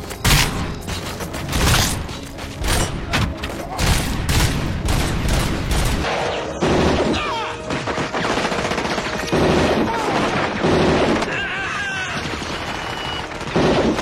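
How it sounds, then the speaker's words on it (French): Repeated gunfire from the RoboCop: Rogue City video game, a heavy pistol firing rapid, punchy shots in quick succession, loud and close, mixed with mechanical clanks and impacts and no talking. "c'est le sound effect du flingue."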